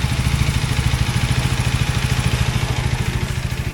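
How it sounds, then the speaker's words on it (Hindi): Hero Xtreme 250R motorcycle engine and exhaust, heard close with a steady, rhythmic low thumping pulse and a mechanical clatter throughout. "राइड करते टाइम भी एग्जॉस्ट का ग्रंट फील होता है"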